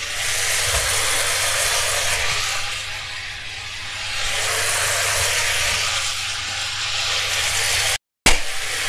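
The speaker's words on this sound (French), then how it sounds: "On va introduire les oignons." Onions going into spicy Korean pork belly already frying in a pan, a loud steady sizzle and hiss that dips briefly midway and cuts out for a moment near the end before resuming.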